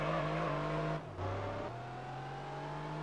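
A Dodge Viper engine in the racing video game Gran Turismo 3 drones at high revs, briefly drops as if shifting gear, then climbs again into a steady, buzzy tone.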